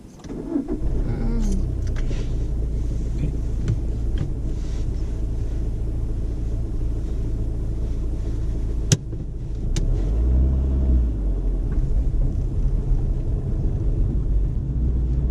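A manual car's engine starts with a brief crank, then settles into a steady low rumble while the car moves off. There is a sharp click near the middle, and a voice speaks once.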